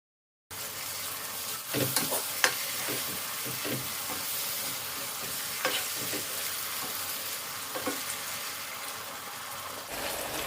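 Tomatoes sizzle and fry in a pot for Nigerian native coconut rice, with a steady loud hiss broken by repeated scraping stirs and occasional clinks of the spoon.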